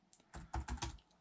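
Rapid keystrokes clatter on a computer keyboard in an irregular burst of close, crisp taps, with no voice present.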